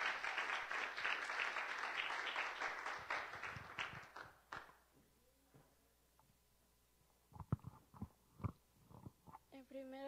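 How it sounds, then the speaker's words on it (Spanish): A small group claps warmly for a girl named Evelyn at a church gathering, the applause dying away after about four seconds, followed by quiet and then a few soft knocks and a voice. "Denle un aplauso a Evelyn para que se recuerde."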